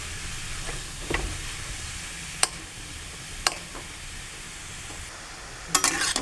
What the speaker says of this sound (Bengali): ভেজে নিতে হবে ঘিয়ের সাথে